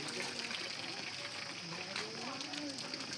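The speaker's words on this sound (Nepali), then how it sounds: "यो छ काठमाडौँको ढुङ्गे धारो यहाँबाट चाहिँ पानी आउँछ" Water runs steadily from a traditional stone spout in Kathmandu along a hiking trail, a continuous close-up splashing hiss that fills the whole moment, with faint voices in the background.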